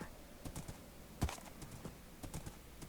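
Horse hooves clip-clopping in the Minecraft Dawncraft modpack, a few soft, irregular hoof knocks over a quiet background, one louder thud in the middle.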